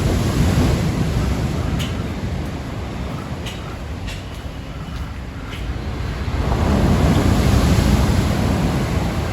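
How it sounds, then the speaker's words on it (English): Ocean waves roll onto the beach at Puerto Vallarta on a morning shoreline, a loud continuous wash of surf that swells, eases, then builds again, with wind buffeting the microphone. "I figured I would stop by the beach, show you how the waves are looking this morning"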